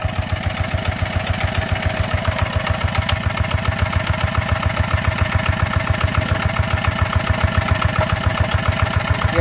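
A Yanmar F4 diesel engine idles close by with an even, rapid chugging pulse and a faint mechanical clatter, smooth and unbroken throughout.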